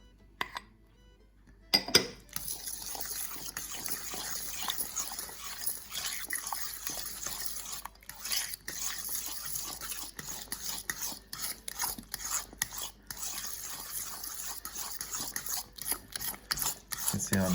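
Ricotta filling for a Sicilian baked cassata being mixed with eggs, a steady wet rubbing and scraping of whisk or spoon against the bowl, continuous at close range after a brief quiet start, with occasional louder knocks.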